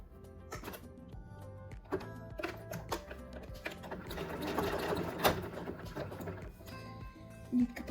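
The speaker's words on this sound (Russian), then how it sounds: "по лицу начинаем шить зигзагом" A sewing machine runs a zigzag seam across the top half of an overlapping placket on the fabric's right side, giving a steady close mechanical whir with quick rhythmic needle clatter and brief pauses and speed changes.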